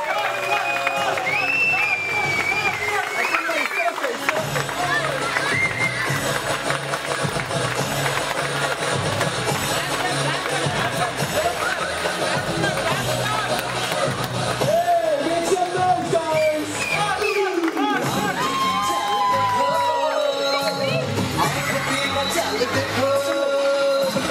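A club awards night crowd cheers, yells and applauds for several seconds, with continuous babble of voices and shouting layered over the clapping, loud and close throughout.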